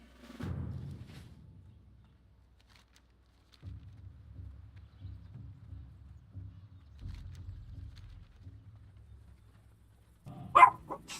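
A dog in World of Warcraft gives a short bark near the start and another, sharper bark at the end, with low, quiet game ambience rumbling in between.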